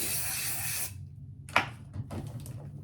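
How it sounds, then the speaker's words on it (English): A short hiss of wig wax aerosol spray on a wig, followed by a brief click and a few quieter spritzes close up. "just spray it"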